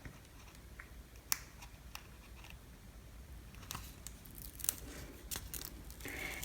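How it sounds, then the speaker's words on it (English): Sublimation paper is peeled apart by hand, producing scattered crisp crackles and tearing clicks over a faint steady background hiss, fairly quiet and close. "what I'm going to do is go ahead and pull apart the paper"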